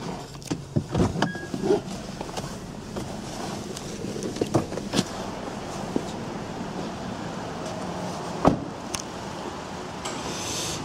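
The electric panoramic glass roof of a Honda Civic 1.8 EX GT hatchback operates, its motor whirring steadily, with a few sharp clicks and thumps as the panel moves; no one speaks.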